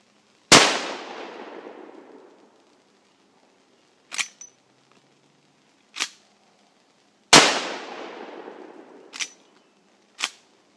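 Two sharp, loud rifle shots of Cabela's match load rounds fired at a tree outdoors, each with a long decaying echo, followed by smaller clicks and clacks of the action.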